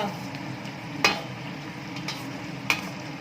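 Hair-oil ingredients fry in oil over a medium flame, giving a soft, even sizzle with two sharp spoon clinks against the pan, with no one speaking.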